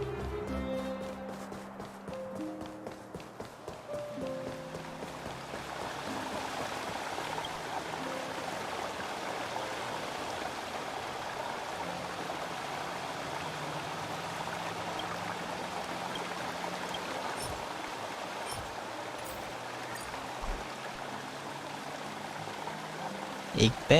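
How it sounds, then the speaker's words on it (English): Fountain waterfall flowing in the video game Honkai: Star Rail, a steady broadband rush of falling water sustained for the whole stretch, with soft game music tones at the start and a few light clicks near the end. "the waterfall"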